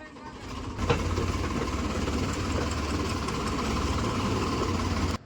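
A tractor engine idles steadily from start to finish, a continuous low rumble with a slight knocking throb, fairly close by.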